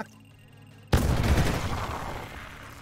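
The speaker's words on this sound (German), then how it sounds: "Oh, was eine Explosion!" Bomb explosion in the video game Dome Keeper: a sudden loud blast after near silence, followed by a long rumbling, crackling decay that fades slowly.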